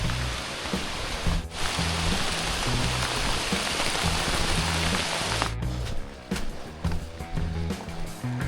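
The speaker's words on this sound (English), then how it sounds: "when the rain's here" Steady heavy rain patters densely on a surface along the Appalachian Trail, a continuous hiss with a brief dip partway through before resuming.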